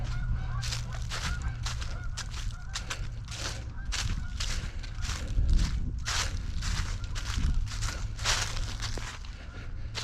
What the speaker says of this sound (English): There's several ducks that just took off.